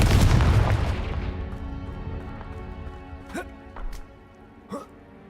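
Spell explosions from Confringo casts in the Hogwarts Legacy video game: a loud rumbling burst at the start, then several sharp, brief magical blasts and crackles standing out over a game soundscape.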